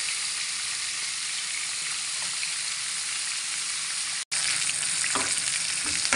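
Food fries in oil left over from frying potatoes, giving a loud, continuous crackling sizzle close up, broken by one brief silent gap before the sizzle resumes.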